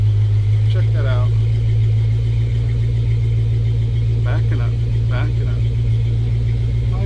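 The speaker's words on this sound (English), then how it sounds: "So the truck goes forward and backwards now." A pickup truck engine idles with a steady, loud low rumble while the truck reverses, and a person talks over it throughout.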